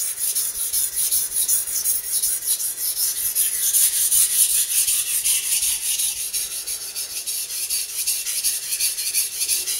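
A Masahiro kitchen knife scrapes steadily across a wet whetstone at fine grit, producing a continuous, close, hissy rasp with a rhythmic back-and-forth texture and no talking.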